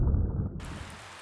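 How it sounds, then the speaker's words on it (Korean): Rain falls on a pond during the monsoon season, a dense steady patter and rumble that starts loud and full, then thins into a softer, even wash of drops. "연못에 빗방울이 내립니다."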